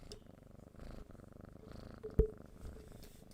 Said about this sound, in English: He purrs so much louder than our other cat.